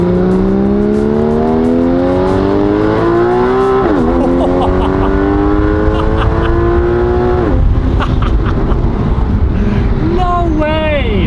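A stock Porsche GTS Street Cup accelerates hard onto a freeway, the engine climbing steadily through several gears with brief dips at each shift, loud and heard from inside the car.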